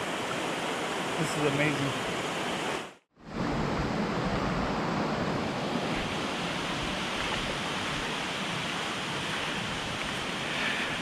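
Stream flowing right beside a campsite, a steady broadband rush of water that fills the whole stretch, briefly cutting out once, with a short spoken remark over it early on.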